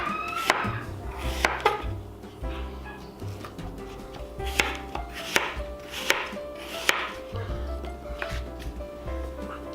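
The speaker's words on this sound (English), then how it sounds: "Just gonna start by chopping this up. Get rid of that core. We're just gonna cut this down into chunks." Golden Delicious apples being chopped into chunks on a cutting board, a run of irregular knife thuds with some louder strikes, and a voice speaking over part of it.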